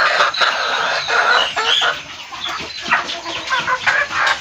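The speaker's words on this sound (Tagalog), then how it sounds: "Yan po ang mga manok." Several Tagalog native chickens cluck and squawk at close range, overlapping in a busy, continuous chatter.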